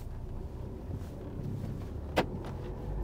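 A car in a driving lesson pulls away with a steady low engine hum and road rumble, heard from inside the cabin, with a brief sharp click partway through.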